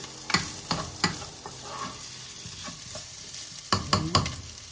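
Onions sizzle and fry in a pan while a utensil stirs and scrapes them in irregular clacks, close and fairly loud, with no talking.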